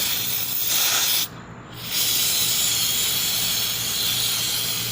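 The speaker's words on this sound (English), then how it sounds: "And again, here's some little carburetor cleaner." Carburetor cleaner sprays onto a Briggs and Stratton carburetor in a loud, steady aerosol hiss that stops briefly and then resumes, with no talking.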